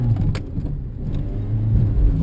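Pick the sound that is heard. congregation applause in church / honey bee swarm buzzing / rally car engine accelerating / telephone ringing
rally car engine accelerating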